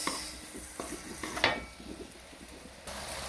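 Seafood stir-frying with holy basil in a pan for a Thai dish: a soft, steady sizzle with occasional scrapes and clinks of a utensil against the pan, fairly quiet and close.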